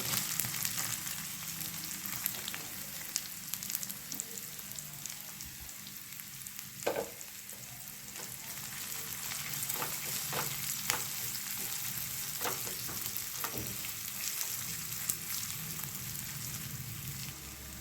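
Finely chopped onion fries in a pan with a dense, even sizzle that continues throughout, plus occasional sharp ticks and scrapes from stirring, close-up and with no one talking.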